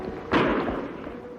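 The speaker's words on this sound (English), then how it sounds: "Shots come from that way, Kimasabi." A single sharp gunshot in an old-time Western radio drama, one loud thud-like crack standing out briefly against a low continuous background.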